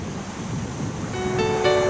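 Ocean waves and surf along the shore at Lunenburg, Nova Scotia, a steady wash of rushing water and wind noise that swells a little louder toward the end, with faint tonal hum, no talking.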